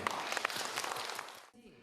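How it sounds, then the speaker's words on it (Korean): An audience at a broadcast ceremony for a Buddhist radio station's new president claps in a dense, moderate burst for about a second and a half before it cuts off. "힘찬 격려와 응원의 박수 부탁드리겠습니다"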